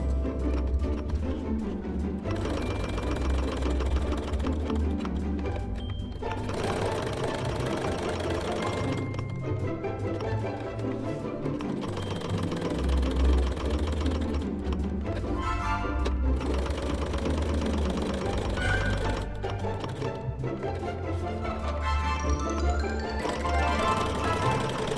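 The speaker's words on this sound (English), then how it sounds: "I'm going to do a very light stitch all the way around the edge of there, just to hold it down" A sewing machine runs a light stitch close to the edge of a leather purse, its steady mechanical whir continuing almost the whole time with only brief pauses between runs.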